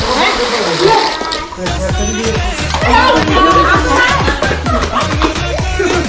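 A Holi pichkari water gun sprays warm water in repeated bursts with splashing and splattering, close and loud, while people talk and chatter around it.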